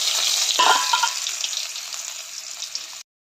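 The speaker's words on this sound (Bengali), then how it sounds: "আলুগুলো একটু হালকা সিদ্ধ করে জল ফেলে দিয়ে দিচ্ছি" Water poured off lightly boiled potatoes into a sink, a steady splashing gush that surges early and then thins out before cutting off abruptly.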